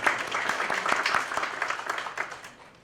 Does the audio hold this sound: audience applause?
yes